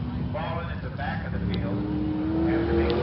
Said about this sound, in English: And there goes our David Chevrolet Geo Oldsmobile pace car, pace in the race.